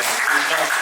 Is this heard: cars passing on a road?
no